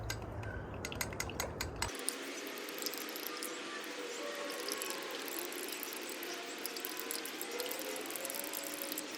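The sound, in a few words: stirring powder into water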